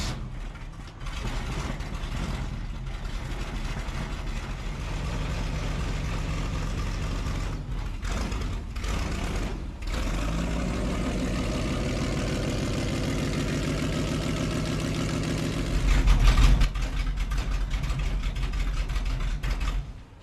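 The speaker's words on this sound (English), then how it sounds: "you warmed up the engine" Airboat engine idling as it warms up, a steady low rumbling drone that runs unbroken throughout and swells briefly louder near the end.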